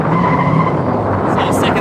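BMW E36 drifting on a wet track at a drift competition, a loud, continuous engine roar with tire noise and spray, crowd or commentary murmur under it.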